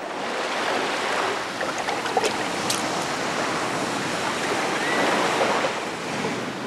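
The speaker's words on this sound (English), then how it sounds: "The sound of the breakers and the force of the sea" Sea waves breaking on the Baltic coast, a continuous wash of surf with rising and falling swells and wind noise, heard alone.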